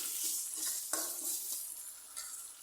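Onions sautéing in a pan for a Tamil herbal kuzhambu gravy, giving a steady close hiss of frying with scraping stir strokes and light clinks of a utensil against the pan, no talking.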